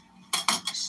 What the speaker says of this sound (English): I'm cutting these pieces of meat in strips